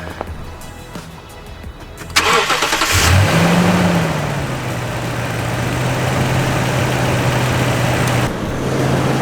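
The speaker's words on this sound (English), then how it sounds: "now we start truck and see if that worked" A Toyota Tundra truck engine cranks and catches, a sharp start followed by a rising rev that settles into a steady, close idle hum.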